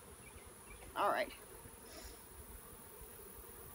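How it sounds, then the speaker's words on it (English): A faint, steady buzz of honeybees in a nuc box hums in the background, with a brief spoken word partway through. "I think I'm gonna tap the bees out of that box"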